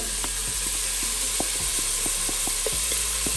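Onion and carrot sizzling steadily in a hot pan for bolognese, a constant bright hiss with light knocks and scrapes of stirring throughout, close up and no talking.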